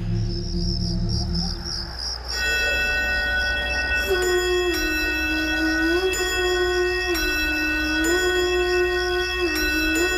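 A clock in a living room chimes in slow, evenly spaced strikes about every two seconds, each ringing tone lingering, over a steady hum of insects in the background.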